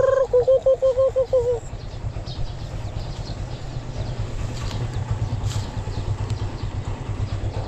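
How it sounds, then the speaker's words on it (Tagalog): A chicken clucks briefly at a busy local market, a quick pulsing run of calls near the start before a steady idling engine rumble and crowd noise take over. "Ito yung manok natin, no?"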